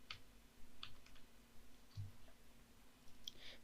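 Typing on a computer keyboard, a few sparse, faint clicks over a quiet steady hum, with no talk.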